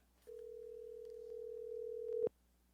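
Steady electronic ringback tone of a phone call routed through a Tascam Mixcast 4 over Bluetooth, one sustained beep lasting about two seconds that swells slightly before cutting off, fairly quiet and alone.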